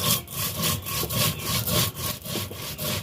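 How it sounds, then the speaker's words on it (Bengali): Mustard seeds ground by hand on a traditional grinding stone, a steady back-and-forth rasping scrape repeating in an even rhythm of about four strokes a second, close and fairly loud with no voices. "তো এটা রান্না করার জন্য সর্বপ্রথম আমি আগে কিছু সরিষা বেটে নেব"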